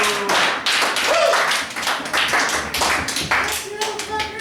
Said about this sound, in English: give a round of applause for Daryl, your bartender.